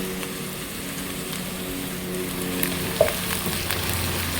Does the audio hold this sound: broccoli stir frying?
yes